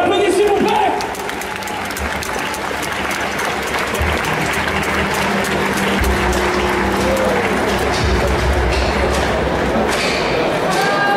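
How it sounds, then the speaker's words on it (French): A cosplay contest audience at an indoor festival breaks into loud, sustained applause for a contestant, with dense clapping filling the room and an announcer's voice running over it. "Et on l'applaudit s'il vous plaît"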